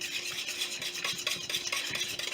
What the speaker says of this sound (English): And just give that a good whisk until everything is nice and blended.